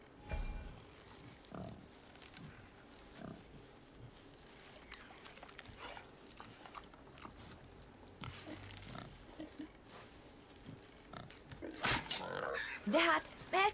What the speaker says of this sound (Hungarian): Lehet, hogy a disznó mágikus.